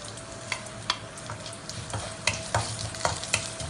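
Dried red chillies, mustard seeds and urad dal fry in hot oil in a pan with a steady close sizzle, punctuated by several sharp spoon scrapes and taps as the tempering is stirred.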